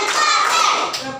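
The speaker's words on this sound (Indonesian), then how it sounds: "Oke, tepuk tangan kita semua." Children clap their hands together in a classroom counting game, a loud, dense burst of clapping that lasts about a second.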